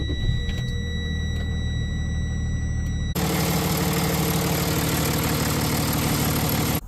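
A Freightliner M2 truck engine idling steadily after a fan belt replacement, a continuous low rumble that jumps louder about halfway through and holds even to the end, with no talk.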